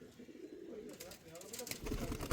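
Andhra pigeons in a loft give soft, faint cooing close by, mixed with rustling and a sharp burst of noise near the end, while someone talks over them.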